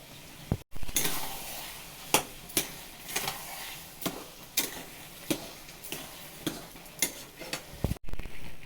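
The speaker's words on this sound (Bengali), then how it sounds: "একটু হলুদ দিয়ে দেবো, নাড়াচাড়া করে নেবো" Plum pickle with turmeric and sugar stirred in a pan, a spoon tapping and scraping the metal in regular, fairly close clicks roughly every half second over a faint low sizzle.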